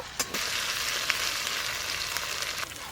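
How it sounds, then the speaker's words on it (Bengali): Ginger garlic paste fries in a hot pan for a Bengali home lunch, a steady close sizzle with a few brief stirring scrapes and clicks. "আদা রসুন বাটা দিয়ে একটু ভাজা ভাজা করছি"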